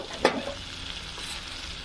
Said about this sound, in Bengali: কেটে রাখা কাঁচা লঙ্কা দিয়ে দিব